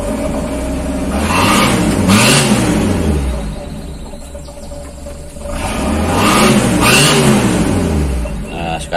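A car engine, just repaired after surging and stalling on hills, runs and revs in two smooth swells that rise and fall, with a quieter idle between them.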